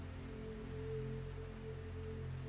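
Steady rain falls on a New Orleans street beside a musician under an awning, a continuous soft hiss with a low droning hum underneath.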